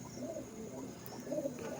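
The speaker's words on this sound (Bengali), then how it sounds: "এটা হচ্ছে বেলে সবুজ পায়রা, কোলে বেবি আছে" A green pigeon held with its chick gives soft, low cooing phrases, two short bursts close by against a faint background hum, with no talk.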